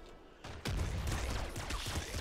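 Rapid gunfire crackles in a video game, a dense burst of overlapping shots that starts abruptly and continues loudly for about two seconds.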